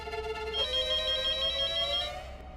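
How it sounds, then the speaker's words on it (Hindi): A landline telephone rings in a home in a Hindi TV serial, a steady electronic trill with a bright tonal ring that continues for about two seconds before fading, loud and alone with no talk over it. "मोबाइल के जमाने में घर के लैंडलाइन में कौन फोन करता है?"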